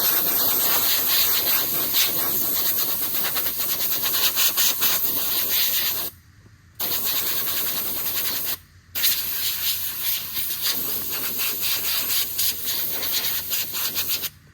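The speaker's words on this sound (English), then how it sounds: "As long as your compressed air is not turned up too high, you don't really run the risk of blowing any holes in this thing." Compressed air blows dust out of a tractor air filter, making a loud, close, continuous hiss and rush that drops out briefly twice before resuming, with no talk.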